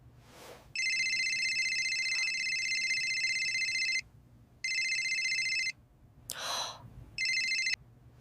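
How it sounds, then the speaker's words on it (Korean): A mobile phone rings in an empty office late at night, playing a bright repeating electronic tone in bursts of several seconds with short pauses between them, fairly close and alone, with a brief breath or gasp near the end. "휴대폰이 울립니다."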